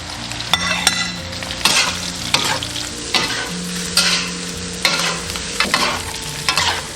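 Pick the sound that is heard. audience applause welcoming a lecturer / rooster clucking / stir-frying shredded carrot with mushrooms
stir-frying shredded carrot with mushrooms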